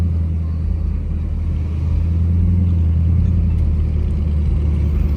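Inside a Jeep Trackhawk cruising down a busy Miami Beach street, the engine drones as a loud, steady, low rumble with continuous road noise, no voices over it.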